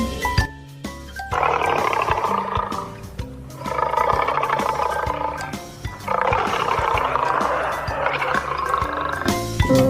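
A lion's roar rendered in a children's alphabet phonics song, heard as repeated loud roaring bursts set over a steady musical backing.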